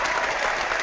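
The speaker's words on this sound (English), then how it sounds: "I have to hit the applause button on that one" A canned applause effect fired from a soundboard button: a short, dense burst of crowd clapping at steady loudness, with no talking over it.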